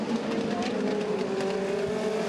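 Legends race cars at Southside Speedway accelerate together as the green flag drops, a dense, loud engine roar with rising revs sweeping past across a short burst.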